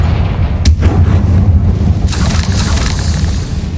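Confringo fire spell exploding in Hogwarts Legacy on PS5, a loud booming blast with a sharp crack and a rushing burst of debris over a constant low rumble.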